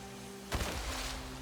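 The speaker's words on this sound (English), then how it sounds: "Rain starts to pour down from the sky." Rain begins pouring down in the Nikke video game, a steady broadband hiss that sets in with a low thump and keeps going evenly, near and fairly loud, with no talking.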